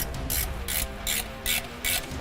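A V-band clamp on a twin-turbo 1932 roadster exhaust being tightened with a ratchet, giving repeated bursts of quick, close clicking in an even rhythm, with no talking.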